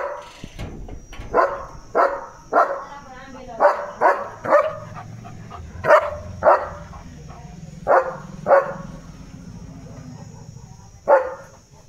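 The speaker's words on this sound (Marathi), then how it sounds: "सकाळपासून ते भुंकतोय बरं का." A German Shepherd dog barks repeatedly in a city home, about a dozen loud, close single barks spaced through the clip, with a low steady hum underneath and some soft whimpering between barks.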